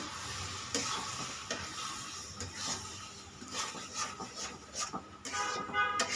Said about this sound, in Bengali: এগুলোকে এইভাবে অনেকটা সময় রান্না করতে হবে, প্রায় 10-15 মিনিটের মতো এইভাবে রান্না করে নিতে হবে। আর বারবার নাড়া দিতে হবে